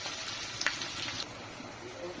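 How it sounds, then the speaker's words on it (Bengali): Onion frying in a pan gives a faint, steady, low sizzle with a couple of soft clicks, heard quietly on its own. "এটা একটু ভাজা ভাজা করে পেঁয়াজটা দেব পেঁয়াজটাও দিয়ে দিয়েছি"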